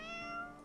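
A video game character lets out a single short, tonal meow, clear and close, at a lucky cat statue.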